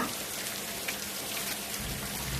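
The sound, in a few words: rain falling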